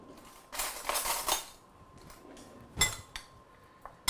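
Spoon scraping and clinking against a bowl while oil, black pepper and seasonings are mixed together, a few bursts of tapping and stirring, close and moderately quiet, with no talking.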